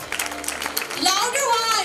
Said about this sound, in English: Clap for ma'am please.